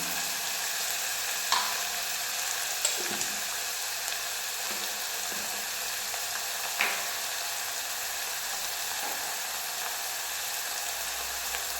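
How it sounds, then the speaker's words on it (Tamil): Gravy ingredients with green chillies sizzle and fry steadily in a hot pan, a constant close hiss broken by a few soft stirring scrapes and clinks, with no talking. "இது நல்லா ஃப்ரை ஆகட்டும்."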